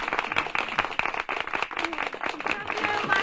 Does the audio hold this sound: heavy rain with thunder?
no